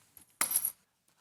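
House keys jangle as they are handed over indoors: one short, bright metallic burst, close and fairly loud, with no voices.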